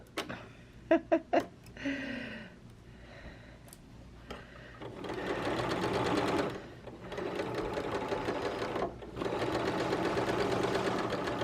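A sewing machine stitches a dart. A few sharp clicks and a short voice come first, then two long, even runs of close, loud motor whir with a brief pause between them.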